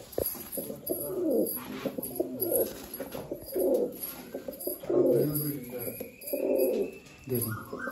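Adult Rampuri pigeons kept for sale give a series of soft, throaty coos, close by and repeated at a loose rhythm of about one each second, over faint background noise.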